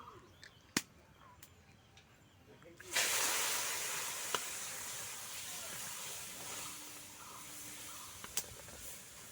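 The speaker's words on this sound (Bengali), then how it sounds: "এখন আমি দুধটা কিন্তু ঢেলে দিচ্ছি।" Milk poured into hot caramelized sugar in a pan while making misti doi, setting off a sudden loud, sustained hiss that begins a few seconds in and slowly fades.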